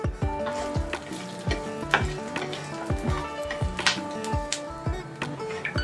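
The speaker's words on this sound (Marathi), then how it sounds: "लसूण, सुक्क खोबरं आणि अद्रक हे आपल्याला छान सोनेरी रंग येईपर्यंत भाजून घ्यायचे आहे।" Dry coconut, ginger and garlic roasting in hot oil, a close sizzle broken by repeated rhythmic scrapes and knocks of a spoon against the pan, with some clinking metal.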